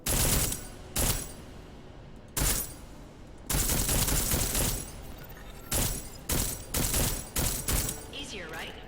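Bursts of armor-piercing gunfire in Deus Ex: Mankind Divided, several loud rapid volleys separated by short pauses, with faint talk in the background.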